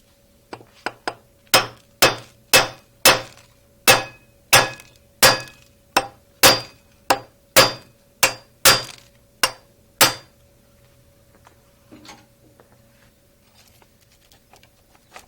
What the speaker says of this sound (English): Use a tapered punch to split or crack the old crankshaft gear.